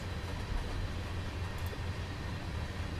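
A train in the Train Simulator 2017 game chugs uphill, giving a steady, low, continuous rumble that stays fairly quiet and even throughout, with no talking.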